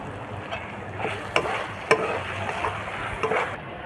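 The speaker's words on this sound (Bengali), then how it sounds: "মসুরির ডাল দিয়ে আর একটু ভালো করে কষিয়ে নেব।" Masoor lentils being sautéed with spices in a pan, a soft steady sizzle with a few scraping stirs of a spatula, close and alone.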